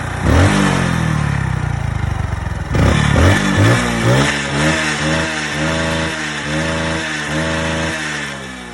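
A Hero HF Deluxe motorcycle engine revved hard at full throttle, with loud, close, repeated surges of rising and falling engine pitch in quick succession.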